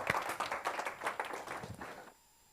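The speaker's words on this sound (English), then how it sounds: "So a round of applause for Andy Cristea." Brief applause for a speaker, the Romanian MEP Andy Cristea, at a conference panel on investment, with a short burst of clapping that stops abruptly.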